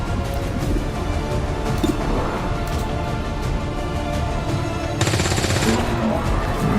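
Steady video-game gunfire chatters beneath a continuous layer of game sound, with a sharper, brighter burst of shots toward the end.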